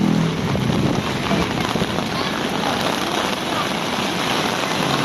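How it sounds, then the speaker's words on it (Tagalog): Dense, steady rush of heavy typhoon rain pouring down on a city street, a constant hiss with no letup. "Ang lakas pa rin ng ulan."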